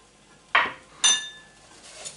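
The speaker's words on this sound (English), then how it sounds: "I'm stirring it constantly because I don't want my rice to burn" A metal utensil clinks twice against a pan of rice and dates being stirred over the heat. The two sharp, ringing taps come about half a second apart, followed by faint scraping in a quiet kitchen.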